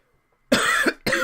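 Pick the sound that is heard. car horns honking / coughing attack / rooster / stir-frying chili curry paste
coughing attack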